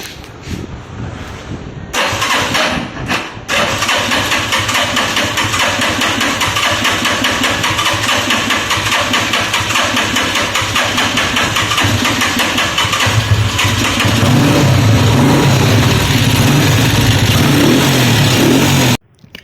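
A Honda motorcycle engine starts up after a few short cranks, then runs at a steady, loud, close idle with a constant throbbing rumble, rising slightly toward the end before cutting off; no speech.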